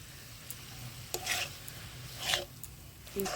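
A spoon works fried spice into amla pickle, making a few quiet, separate scraping and squelching strokes over a low background hum.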